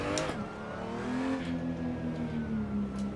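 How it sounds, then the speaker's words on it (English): A car engine revs in the Assetto Corsa racing game played on a motion simulator, a steady, close droning tone that climbs and then slowly falls in pitch as the revs ease off, loud and continuous. "Pretty amazing job that they've done at the engine sound."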